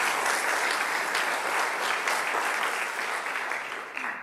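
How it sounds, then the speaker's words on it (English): Audience at a Folsom Lake College fall convocation breaks into steady, sustained applause that fills the room, tapering off slightly toward the end. "give yourselves a round of applause for that"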